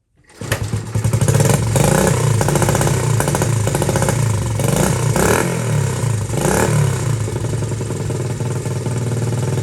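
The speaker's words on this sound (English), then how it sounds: "So I turned on the key, raised the choke. Watch this." A Honda XL70 motorcycle engine with the choke raised catches almost immediately and then runs loud and close, a busy, rapid single-cylinder clatter that holds steady with slight rev swells.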